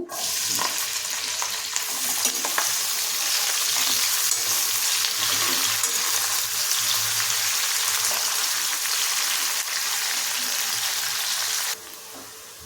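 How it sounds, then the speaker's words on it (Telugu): Onions and curry leaves sizzle steadily in hot oil in a pan, a loud continuous frying hiss with occasional stirring scrapes that drops away sharply near the end. "Oil heat ఎక్కిందండి. ఉల్లిపాయను అలాగే కరివేపాకు వేసేస్తున్నాను."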